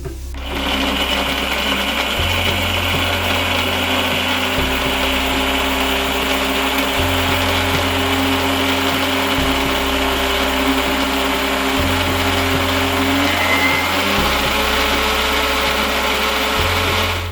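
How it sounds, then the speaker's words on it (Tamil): Mixer grinder whirring steadily as it blends tomatoes, garlic, ginger and green chillies into a fine paste, its motor note pulsing in regular stepped bursts about every two seconds, loud and close throughout with no talking. "இதை வந்து ஒரு நல்ல ஒரு ஃபைன் பேஸ்ட்டாக அரைச்சிப்போம்"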